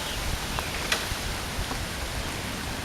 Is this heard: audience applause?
no